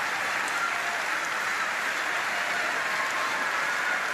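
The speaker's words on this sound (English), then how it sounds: "And one last round of applause for Florian Marien" Steady, dense applause from a large crowd at a wheelchair table tennis match, sustained evenly throughout without a break.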